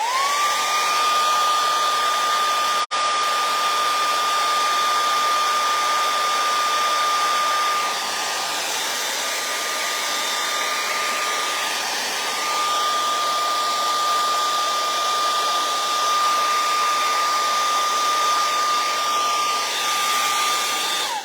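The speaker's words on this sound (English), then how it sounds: "we're going to take the hairdryer again because we want this to be dry" A hair dryer blows continuously at close range with a steady whine and rushing air, uninterrupted throughout, drying paint.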